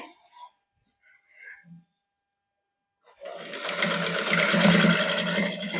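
A sewing machine runs steadily while a fabric strip is stitched onto a salwar, loud and close, starting after a few seconds of soft speech and handling noise.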